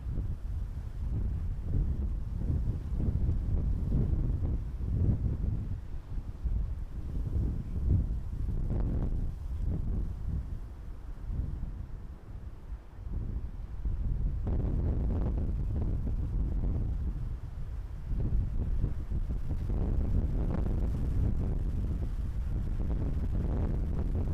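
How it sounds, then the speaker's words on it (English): Strong wind buffets an outdoor microphone at Edinburgh Airport, a loud, continuous low rumble with gusty swells and no break across the whole stretch, with no voices. "Wind is picking up for sure"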